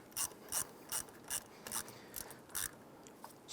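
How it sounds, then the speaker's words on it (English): A ratchet wrench tightens a battery terminal bolt on a 1995-2001 Ford Explorer, giving several crisp, close clicking bursts in a steady rhythm, then a few softer clicks as it snugs down. "Once that bolt tightens down, just give it a little bit more."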